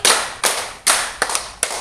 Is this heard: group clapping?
yes